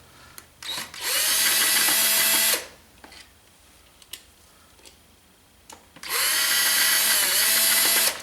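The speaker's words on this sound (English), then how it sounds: "I'll cheat a little bit and put it on the drill." A cordless power drill spins out bolts while a 2001 Yamaha YZ426F motorcycle engine is taken apart, two sustained, close, whirring bursts separated by quiet clicks and taps of parts being handled.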